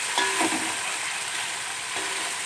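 Chicken frying in a pan for a rice biryani-style dish, giving a steady broadband sizzle with a few soft stirring scrapes near the start and again near the end, with no talk.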